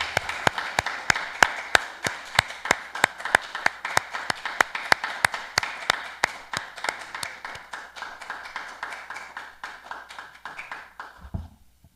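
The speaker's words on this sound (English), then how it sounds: "I just want to give all of those devotees a round of applause." Rhythmic unison clapping from devotees at a temple gathering, sharp regular claps at about two to three per second, fairly close, continuing steadily for over ten seconds before stopping.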